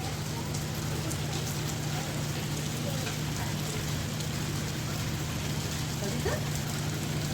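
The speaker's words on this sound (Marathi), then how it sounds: "आता इथं अचानक पाऊस पडायला सुरुवात झाली आहे" Sudden rain pours steadily on an Andaman island, a dense, even hiss of drops hitting surfaces that continues unbroken throughout.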